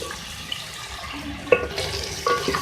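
A little water is poured into frying masala for beef and potato korma, giving a brief splash and a rising sizzle with scraping stir sounds, close and moderately loud, with no talking.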